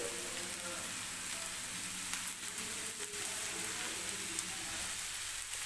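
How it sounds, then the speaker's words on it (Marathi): Chopped capsicum frying with onions in hot oil, a steady sizzle and crackle that runs unbroken and fairly quiet throughout, with a few soft stirring scrapes and no talk. "मी जी शिमला मिरच कट करून घेतलेली होती ती आता टाकून घेणार आहे"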